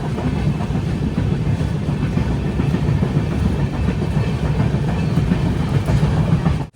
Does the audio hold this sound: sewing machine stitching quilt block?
no